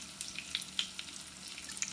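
Potato bread fries on medium-low heat in a pan, giving a soft, quiet sizzle with scattered light pops and crackles, close but faint, with no talking.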